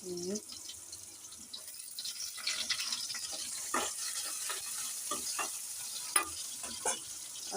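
Ginger and garlic frying in a pan, a quiet, continuous sizzle with intermittent spoon scrapes and taps, fairly close, with faint water-like hiss in the background.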